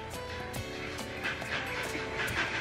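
A yellow dog on a pink couch gives soft barks and whimpering yips, close by and fairly quiet, with no talking.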